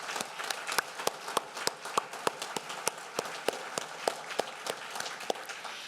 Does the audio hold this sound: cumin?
no